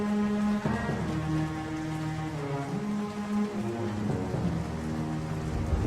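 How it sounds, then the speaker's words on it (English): Steady rain with low rumbling thunder in the medieval dungeon game Exanima, the wash of rainfall continuous and loud throughout while deep, distant rolls sit underneath it, with no voices. "the sound of thunder takes time to reach you based on distance."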